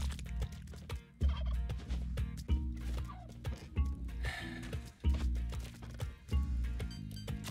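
Turkeys gobbling in the video game Spelunky 2, a rapid, rattling series of loud gobbles repeating in bursts throughout, with brief pauses between calls and no speech.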